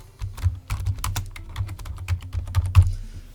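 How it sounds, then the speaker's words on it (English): Close computer keyboard typing during a TinkerCAD tutorial, an irregular run of quick clicking keystrokes with a few heavier presses and low desk thumps, heard alone with no talk. "You probably heard me typing in the background"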